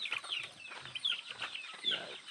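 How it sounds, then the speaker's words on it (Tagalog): Hens cluck and chatter close by in a busy, overlapping stream of short calls, with no voices. "ito yung ating manok"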